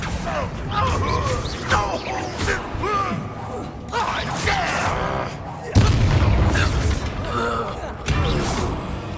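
Spell effects from a Harry Potter video game, Confringo and Accio casts, come as repeated magical whooshes, booms and creaking impacts with a busy game soundscape behind them. A deep boom lands near the middle, and bursts arrive at irregular intervals.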